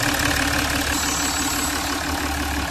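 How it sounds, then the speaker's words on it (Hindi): Jaguar XF engine idling just after starting, a steady close rumble with a faint regular knock, the car having a misfire fault and oil leak. "कार तो मेरी स्टार्ट हो गई है।"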